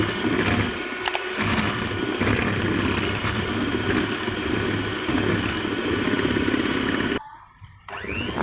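An electric hand beater whips coffee for cappuccino, a steady high whirring drone that runs continuously and close before cutting off near the end.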